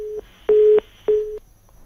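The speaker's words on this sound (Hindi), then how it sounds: "संजय से फोन जो है वो डिस्कनेक्ट हो गया है" During a live news phone report the line drops, leaving a steady pulsing disconnect tone of three clear evenly spaced beeps, close and alone.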